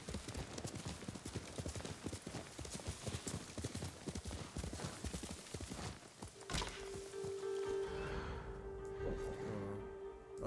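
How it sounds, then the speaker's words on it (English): Horse hooves in Ghost of Tsushima clatter in a steady, fast clip-clop for about six seconds, then give way to a sustained tone and softer movement as the ride slows. "Can't run my horse to death like that"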